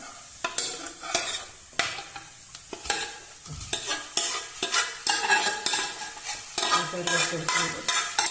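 Beef for Kannur-style beef varattiyath is stirred and fried in a pan, giving a loud, close sizzle broken by repeated scraping strokes and clatter of the spoon against the metal, with no speech.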